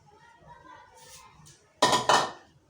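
Meat for haleem tipped into a metal cooking pot, two sharp, loud clanking hits after a quiet stretch with faint background noise.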